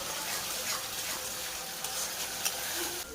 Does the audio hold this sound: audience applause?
no